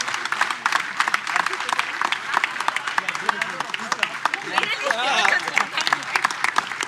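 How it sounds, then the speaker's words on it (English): Standing ovation from a conference audience at a workforce-skills event, dense clapping filling the room steadily for several seconds with some voices mixed in. "Standing ovation."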